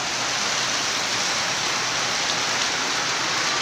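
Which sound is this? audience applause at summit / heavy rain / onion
heavy rain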